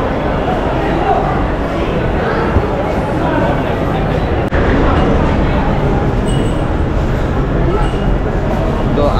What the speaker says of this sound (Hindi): फाइनली दिल्ली पहुंच चुके हैं मेट्रो स्टेशन